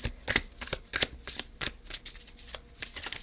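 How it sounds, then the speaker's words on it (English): Crisp, rapid riffling of a tarot card deck being shuffled, a run of close, dry flutters and snaps with no talking. "I want to go in with one more shuffle here"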